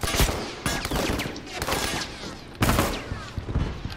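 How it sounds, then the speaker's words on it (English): Rapid bursts of gunfire crackle in the shooter game Factions on the Wharf map, a dense, loud, close volley of overlapping shots with short breaks between bursts. "I got shot"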